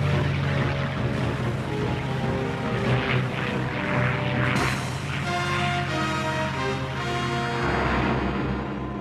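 WWII carrier-based propeller aircraft drone overhead, a continuous loud engine roar with rising and falling swells as the planes pass close by, heard alone.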